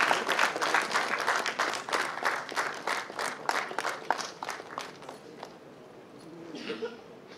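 Audience applause at a Bengaluru songs release event, dense and steady clapping from a crowd in the hall that gradually thins and fades toward the end.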